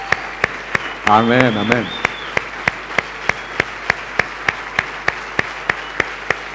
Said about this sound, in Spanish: si no me quiere dar un fuerte aplauso a mí, déselo a Dios